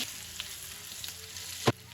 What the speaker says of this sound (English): you can actually hear it's stopped sizzling quite as much